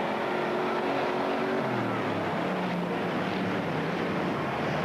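Stock race cars roaring down the back straightaway at East Moline Speedway, a loud sustained engine drone with pitch sweeping as the cars pass, dense and close.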